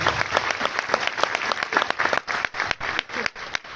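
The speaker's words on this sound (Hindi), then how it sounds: "एक बार जोरदार तालियां बजा सकते हैं।" Audience at a national-stage business event in Bhilwara, Rajasthan breaks into loud, sustained clapping, dense and steady for the whole stretch with sharp individual claps standing out.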